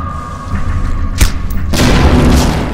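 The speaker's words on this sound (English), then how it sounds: "Now that explosion gained us a tad bit of attention" In the game Velvet Assassin, a shot barrel explodes with a loud, close boom and a heavy rumble, following a quieter stretch with a sharp crack.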